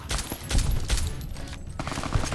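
Rapid gunfire from a weapon in Fallout: New Vegas, a dense burst of overlapping shots rattling loud and close for a couple of seconds with no pauses.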